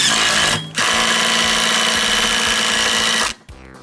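Pneumatic impact wrench tightening the clutch nut on a KT196 go-kart, two loud buzzing hammering bursts, one short and one long, right up close with a brief gap between them.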